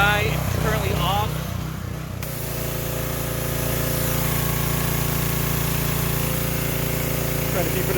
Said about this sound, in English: I'm gonna run the carburetor dry